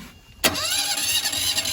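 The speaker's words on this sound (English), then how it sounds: "Now we're gonna start the engine." A boat's diesel engine starts with an abrupt loud burst, then settles at once into a steady, close running rumble.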